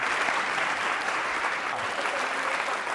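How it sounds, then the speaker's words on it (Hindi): Loud, sustained audience applause fills the whole stretch at a university quiz show held for Holi, with dense clapping and no talk. "तालियां जोरों से बजाइए"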